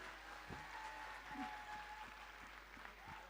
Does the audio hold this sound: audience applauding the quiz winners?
yes